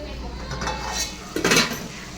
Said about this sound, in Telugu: మంచిగా మూత పెట్టుకున్నా. తీద్దాం.